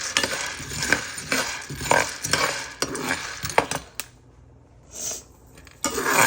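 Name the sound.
dry-roasting green chickpeas in a pan, stirring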